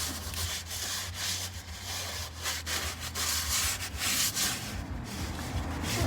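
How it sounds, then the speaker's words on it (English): A rag wipes petrol and transmission fluid off a Mercedes SLK R170 gearbox part, giving a continuous close scrubbing rub with steady rhythmic strokes and no talk. "So I'm wiping off the petrol with the oil."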